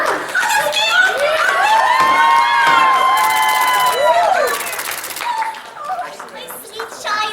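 A convention audience at a pony-themed stage show cheers and applauds in a loud, dense crowd roar, with high squeals and shouts rising over the clapping for several seconds before it thins out.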